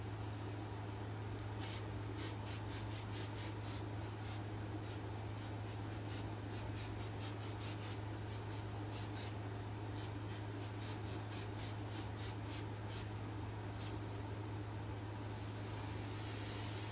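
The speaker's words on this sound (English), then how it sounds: "just normal hairspray" Ordinary hairspray from an aerosol can sprays in a rapid series of short, sharp hissing bursts up close, ending in a longer continuous spray, over a steady low hum.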